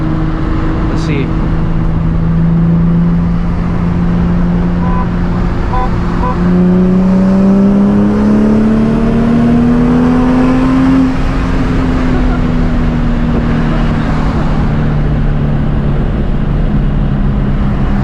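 A Nissan 350Z engine revs and accelerates hard, pitch climbing steadily, with a 5.0-liter V8 car droning alongside and wind noise throughout.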